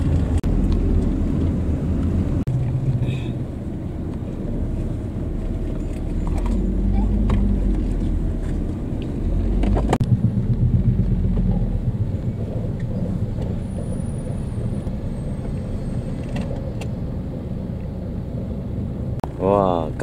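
A Proton taxi car driving in traffic, its engine and road noise a steady low rumble inside the cabin, with people talking over it throughout.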